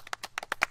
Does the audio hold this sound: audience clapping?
yes